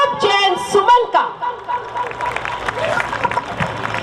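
Audience applause welcoming an international poet at a Jain religious rally at Ramlila Maidan in Delhi, a crowd clapping beneath an amplified voice on a loudspeaker, then settling into a steady, moderately loud patter.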